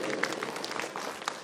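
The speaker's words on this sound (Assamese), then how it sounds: "ৰাইজৰ পৰা এটি বিপুল হাত চাপৰি বিচাৰিছোঁ" A crowd at a student felicitation ceremony gives a short round of applause, with moderately loud, scattered claps and a faint murmur of voices behind.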